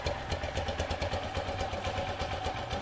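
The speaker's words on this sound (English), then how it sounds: "motor running" Motorstar motorcycle engine running steadily at close range, a low rumbling idle with a rapid, even pulse and noisy valve ticking throughout, no voices.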